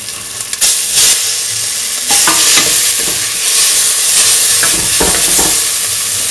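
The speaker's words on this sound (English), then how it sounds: "Put in the ground mint coconut mixture." A ground mint and coconut mixture goes into a hot pan of popping mustard seeds and is stirred, giving loud sizzling and frying hiss with repeated scraping strokes of the spoon, close up and with no talking.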